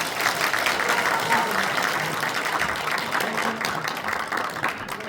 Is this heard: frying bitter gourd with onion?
no